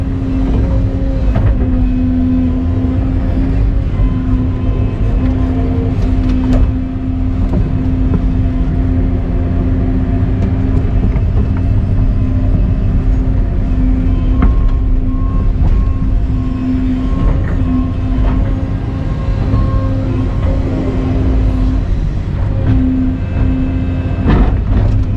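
Heavy trucks idle and rumble steadily nearby as topsoil loads go in, a constant loud engine drone with a low tonal hum and occasional clunks from the loading throughout.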